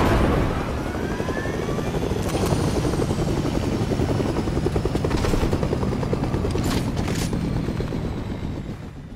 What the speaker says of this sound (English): Now he tried exploding the helicopter.